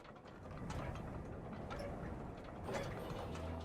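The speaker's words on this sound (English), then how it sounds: "We basically just have to push this generator into the right spot and then crank." A generator contraption being cranked in Brothers: A Tale of Two Sons, a steady run of ratcheting, clicking gear sounds at close range, continuing without pause and with no talk over it.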